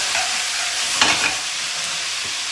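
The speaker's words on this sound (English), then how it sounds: "Give that a good stir around." Carrots and parsnips being stirred around in a stew pot, a steady scraping, rustling wash with a brief louder clatter near the middle, close and continuous with no talking.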